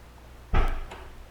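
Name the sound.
releasing trunk of Hyundai Elantra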